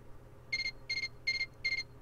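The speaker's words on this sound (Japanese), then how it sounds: "ちっ、こんな時に携帯が鳴るなんて。" A mobile phone rings in the detective video game Tantei Jinguji Saburo: Yume no Owari ni, sounding as four evenly spaced bursts of bright electronic trilling over a faint background.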